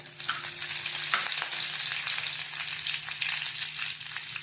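Curry leaves dropped into a hot cumin and mustard seed tempering for a green pea curry, a dense crackling sizzle with rapid pops throughout, close and fairly loud, no voices.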